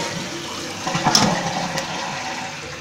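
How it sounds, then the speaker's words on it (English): A 2015 Glacier Bay dual-flush toilet flushes, a steady rushing wash of water that swells briefly in the middle and then settles into a continuous drain, close by and with no voices. "It's 2015 Glacier Bay."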